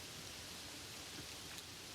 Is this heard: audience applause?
no